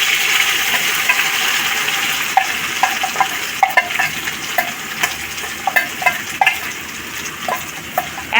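A ground vegetable paste hits hot oil in a wok and sizzles steadily, with sharp crackles and pops breaking out through the frying, close and alone.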